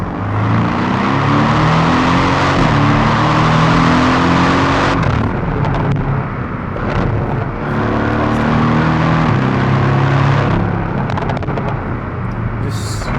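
A 2018 Porsche 718 Cayman GTS accelerates hard through the gears, its exhaust roaring loud and close with rising pitch sweeps, a brief lull around a shift midway, then another strong pull.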